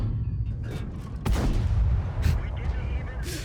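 Object 140 tank gun firing in World of Tanks, heavy booming cannon shots with deep rumbling low end, one sharp blast about a third of the way in followed by further bursts of rolling explosions, loud and close.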